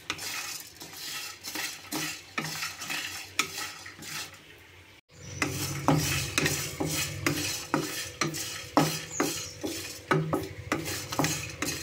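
Whole spices for a tempering fry in a pan on a village stove, a continuous close sizzle with rhythmic metal spoon scrapes and clinks against the pan, briefly cut off midway before the stirring resumes louder.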